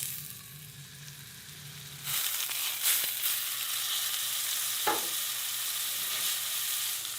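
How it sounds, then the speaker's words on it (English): Moose meat lands in a very hot pan and sizzles loudly, a dense steady hiss that jumps up as the meat goes in, with a few clicks and scrapes of handling, close and without talk. "we've got a very hot pan here, and we've got the oven at 400. So let's get this bad boy searing."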